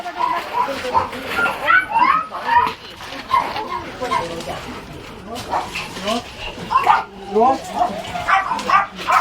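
Several dogs bark, yip and whimper in quick overlapping bursts, close by, during a rescue at a Korean dog meat farm, with people talking in the background.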